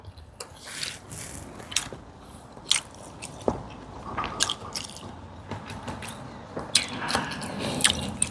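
Someone bites into and chews pork ribs coated in a thick, slightly sweet sauce, with close, wet, squishy chomps and smacking at an irregular rhythm, no talking.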